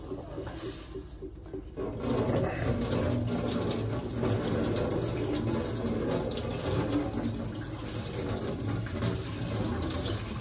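Water poured out of a container holding stones, a steady close splashing flow after a brief quieter start, continuous like a running tap, with no talk.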